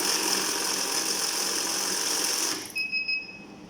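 A PHET FT-501 banknote counting machine runs with a fast, steady whirring flutter that stops abruptly near the end, followed by a few faint clicks and short electronic beeps.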